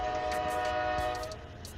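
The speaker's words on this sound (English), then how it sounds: "sorry for the train noise." A train passes close by with a long, steady horn blast sounding through most of the moment, over a low rumble of the rail cars, loud and continuous.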